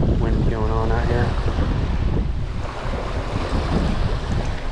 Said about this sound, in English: it's certainly got a little bit of wind going on out here